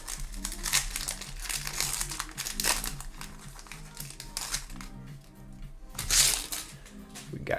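A foil trading card pack is torn open and its wrapper crinkles and crackles up close in irregular bursts, with a louder rustle near the end and no clear talk.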